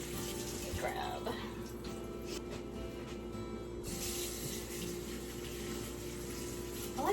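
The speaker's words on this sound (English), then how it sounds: "I like to wash my potatoes off after I peel them." Tap water runs steadily into a kitchen sink while freshly peeled potatoes are rinsed, a continuous splashing wash with faint handling noises mixed in.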